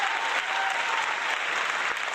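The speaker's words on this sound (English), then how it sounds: "we figured out a way to unmute everybody's mic just for the applause" Brief burst of steady applause from many livestream viewers' unmuted microphones, a dense, even wash of clapping lasting about two seconds.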